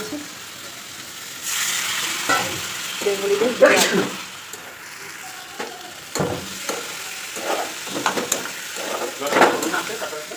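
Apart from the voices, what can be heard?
food frying in a pan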